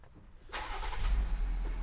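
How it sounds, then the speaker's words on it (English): A Jeep engine cranks and catches, then settles into a loud, steady low rumble close by, heard from inside the vehicle. "Start it up so we can have our power steering."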